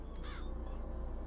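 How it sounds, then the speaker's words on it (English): A crow caws from the Murder of Crows vigor in BioShock Infinite, a single rasping call rising over a steady low hum, faint and distant. "Give me your murder of crows."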